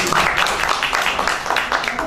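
An audience applauds at a Creole cabaret evening in the port of La Réunion, with dense, even clapping filling the room and a voice briefly audible within it.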